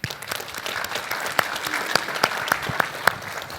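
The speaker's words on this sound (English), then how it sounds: "giving our Changemakers a huge round of applause for this session" An audience at a Melbourne business event claps in a sustained round of applause, with a few sharp, louder claps standing out above the steady patter throughout.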